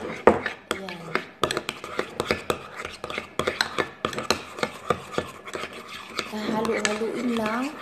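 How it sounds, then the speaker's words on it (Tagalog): A spoon stirs a honey, lemon juice and flour mixture in a bowl, scraping and clinking in a quick regular rhythm, close and fairly loud. "Haluin lang."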